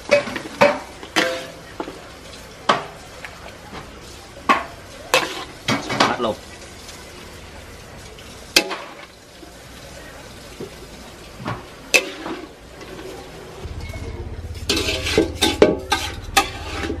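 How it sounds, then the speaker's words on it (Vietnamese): Food is scooped and stirred in a frying pan while making Bình Thuận duck noodle soup, with sharp clinks of a utensil against the pan and soft scraping over a faint sizzle, close and intermittent. "Rồi bây giờ mình xúc từ cái chảo lên đây"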